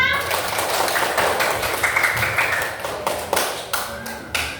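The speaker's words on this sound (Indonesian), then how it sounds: "Tepuk tangan untuk kita semua." Children clap their hands together in an elementary classroom, a steady burst of mixed applause that thins into a few separate sharp claps toward the end, with a teacher's voice over it.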